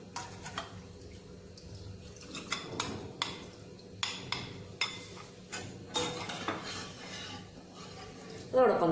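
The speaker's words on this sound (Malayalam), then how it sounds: "ഈ മിക്സ് ചെയ്തെടുത്ത കോൺഫ്ലോർ ഞാൻ ഈ പാലിലേക്ക് ഒഴിച്ചു കൊടുക്കുകയാണ്" Cornflour mixture poured into milk and stirred for coffee pudding, with repeated spoon clinks against a pan or bowl in a steady rhythm and faint liquid sounds, no talking.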